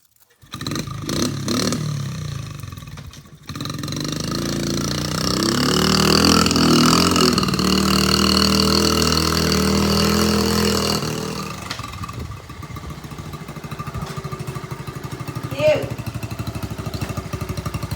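A Honda Trail 70 minibike engine runs with a steady, loud mechanical drone for about eleven seconds, then drops to a lower, rougher idle as voices talk over it.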